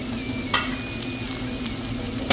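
Onion, green chilli and ginger-garlic paste frying in hot oil, a loud, steady sizzle with a couple of sharp stirring scrapes, close and alone without talk.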